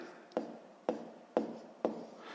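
Pen or chalk strokes writing out a maths step, four distinct scratchy taps at an even rhythm, close and fairly quiet, with no talk.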